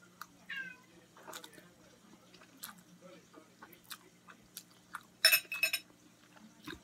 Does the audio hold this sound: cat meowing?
yes